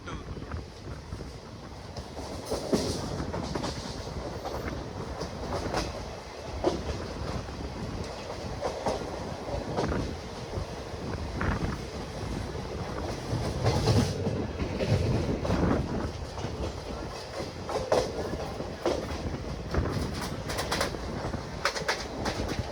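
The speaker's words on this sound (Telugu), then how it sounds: "ఓవరాల్గా మన ట్రైన్ మొత్తం ఎల్హెచ్పి కాదు ఐసీఎఫ్ కోచెస్తో రన్ అవుతూ ఉంటుంది" Pinakini superfast express with ICF coaches running from Vijayawada to Chennai, a steady loud rumble and rattle of carriages with rhythmic clickety-clack of wheels, wind buffeting throughout.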